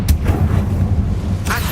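In the Hogwarts Legacy game, a Confringo blasting spell goes off as a sharp crack followed by a heavy low rumble, with a second crackling burst near the end.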